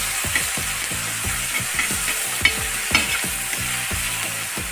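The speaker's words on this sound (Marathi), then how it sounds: "ठेचून घेतलेला ठेचा या तेलामध्ये टाकून घेऊया मिक्स करून घ्यायचा" Crushed green chilli thecha fries in hot oil while a spoon scrapes around the pan in quick, regular strokes over a continuous close sizzle, with occasional sharper clinks.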